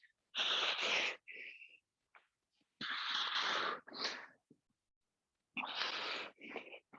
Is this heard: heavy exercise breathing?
yes